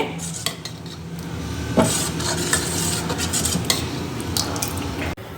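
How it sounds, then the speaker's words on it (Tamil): Dosa batter mixed with fresh coriander is stirred briskly in a vessel. Wet squelching and spoon scrapes repeat close up in an uneven rhythm, with faint background hiss. "இப்போ இது எல்லாத்தையும் சேர்த்து நல்லா கலந்து விட்டுக்கலாம்"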